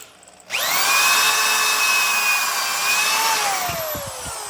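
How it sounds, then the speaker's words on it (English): A drill with a hole saw bores mounting holes in a bracket. The motor whines up sharply and holds a loud, steady high-pitched grind for about three seconds, then the pitch drops and it winds down with a few knocks. "So now we have the 3 holes drilled for the mounting position."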